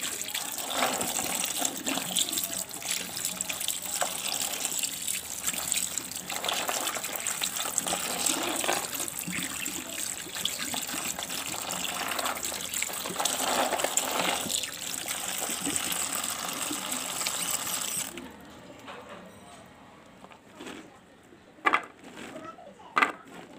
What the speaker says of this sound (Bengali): প্রথমে আমি বিচিগুলিকে খুব ভালোভাবে ধুয়ে নিচ্ছি খুব ভালো করে ধুইতে হবে